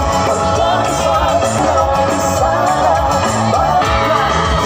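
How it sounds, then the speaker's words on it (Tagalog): A dense crowd yells and cheers at arriving celebrities, a loud, continuous roar of voices that stays close and never lets up. "Na may kasamang hiyawan!"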